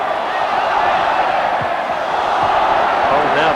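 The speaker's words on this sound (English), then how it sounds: "now the crowd really are beginning to enjoy this as they're giving their local heroes the bullfight ole" Loud, dense football stadium crowd roaring and chanting olé in unison, a steady wall of voices at a 1990 World Cup qualifier between Ecuador and Paraguay.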